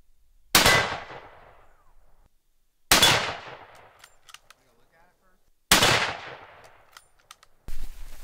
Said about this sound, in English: gonna shoot it with 300 Win Mag to see how clean it goes through that